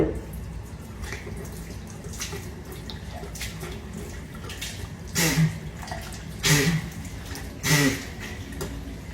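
Water splashes and trickles during wudu ablution washing, a steady faucet flow broken by three louder splashes of hands scooping water near the end.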